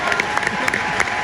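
Loud audience applause at the Turning Point 2022 event in Las Vegas, a brief burst of close, dense clapping with a few sharper claps poking through, with crowd noise mixed in.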